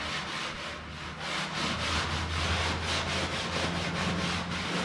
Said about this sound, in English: Now I'm gonna take this Scotch-Brite and get where I can't get with the sandpaper.